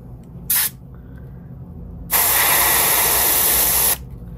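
An airbrush sprays paint onto a fishing lure in a dying threadfin pattern. A short puff of hissing comes first, then a steady, close spray lasting almost two seconds.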